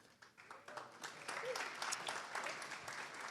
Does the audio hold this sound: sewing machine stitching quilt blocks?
no